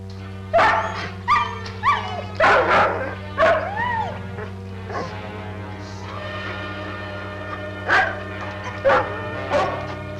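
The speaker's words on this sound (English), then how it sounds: "Somebody with a collie dog." A collie barks and yips repeatedly in uneven bursts, fairly close, with whiny tones between barks over a steady low hum.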